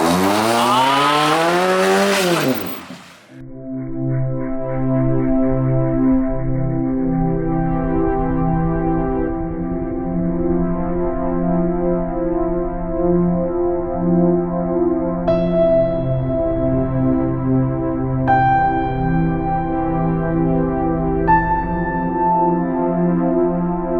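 A TC car does a burnout, its engine held at high, steady revs with a tire squeal over roughly twenty loud seconds, the pitch stepping up a few times.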